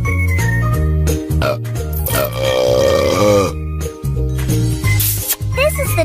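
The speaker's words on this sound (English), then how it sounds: "Help Emma burp." Cartoon baby burp sounds from a kids' baby care game, set against a loud, steady, tonal game music loop with bright chimes and jingles, several short bursts across the stretch.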